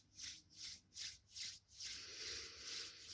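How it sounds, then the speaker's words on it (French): Hands rubbing together slowly during a relaxation exercise, four rhythmic soft swishing strokes followed by steadier continuous rubbing, close and quiet with no talk. "Le frottement provoque de la chaleur, donc on frotte ses mains."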